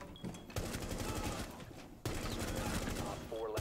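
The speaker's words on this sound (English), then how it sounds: "I was shooting anything that moved" Sustained automatic gunfire from the PC video game Rainbow Six Siege, loud close bursts broken by a short pause, with a player talking over it.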